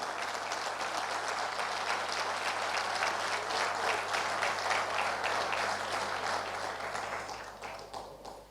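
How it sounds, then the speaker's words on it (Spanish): A church congregation applauds for God during a service, a full, steady burst of clapping that carries on for several seconds and fades away at the end. "¿Cuánto le da un aplauso a Dios, hermano?"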